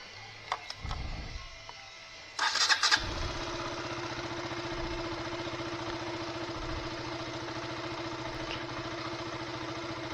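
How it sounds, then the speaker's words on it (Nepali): A bike-taxi motorcycle coughs to life with a short, loud starting burst, then settles into a steady, close idle that runs to the end. "बाइक स्टार्ट गर्छु।"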